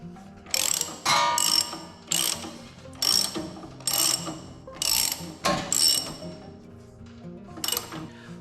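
A ratchet wrench snugging a new spark plug into an Ariens snowblower engine, sounding as repeated bursts of quick metallic clicking, each lasting under a second with short pauses between, close and clear, no talking.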